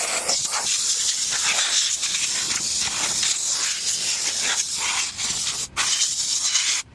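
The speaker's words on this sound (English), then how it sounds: "I'm just gonna spray some glass cleaner on it," Glass cleaner sprayed onto a car console during detailing makes a long, continuous close hiss that runs for several seconds with brief dips, loud and alone.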